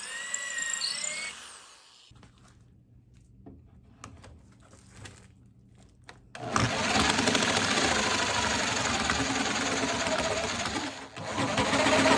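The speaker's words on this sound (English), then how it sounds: "I don't think this jigsaw is powerful enough" A jigsaw starts up and buzzes loudly and steadily through wood after a quieter stretch of faint handling noises, close and harsh.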